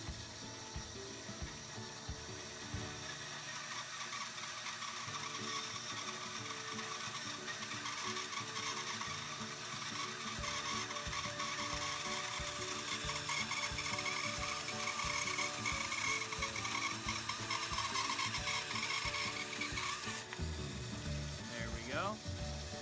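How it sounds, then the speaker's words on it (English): A bandsaw cuts through exotic wood being trimmed into pen blanks, running as a continuous quiet mechanical drone with a steady buzzing texture that shifts slightly near the end. "Now to cut these feet off, I'm going to use the bandsaw."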